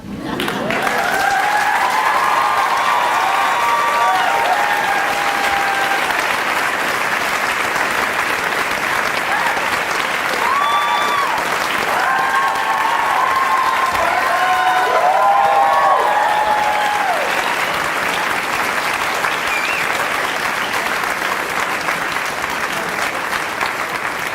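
A campus audience at a diversity monologues event claps long and loud, with whoops and cheers rising above the steady clapping through much of the stretch.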